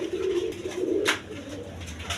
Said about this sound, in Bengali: এক পেয়ার কবুতর, ইরানি রেসার কবুতর, দেখেন রেড চেকার।